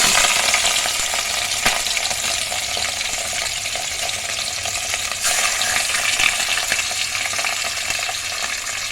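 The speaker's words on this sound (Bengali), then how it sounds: "এখন আমি তেলটা আমার গরম হয়ে গেছে, মাছগুলো ছেড়ে দিচ্ছি।" Pieces of rui fish for finger snacks are slid into hot oil and fry, giving a loud, steady, crackling sizzle that holds without a break and is close and unbroken by speech.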